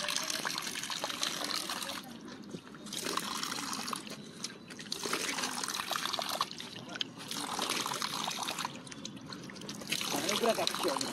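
Chilled water flows and trickles steadily at the Sikharchandi Temple picnic spot, a bright continuous splashing that rises and falls in surges, with people talking faintly underneath.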